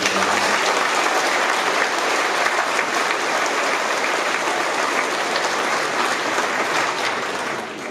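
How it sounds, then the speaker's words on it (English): A graduation audience applauds its sponsors at a school ceremony, a dense, steady wash of clapping that stays loud throughout and tapers slightly at the end. "We give a round of applause to all of our sponsors."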